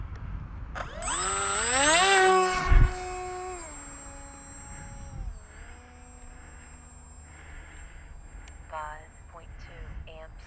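Sunnysky X2216 1250kV V3 electric motor on a 40 amp ESC, throttled short of full: a whine climbs in pitch, then settles into a steadier, fainter tone, with a thin high note held throughout.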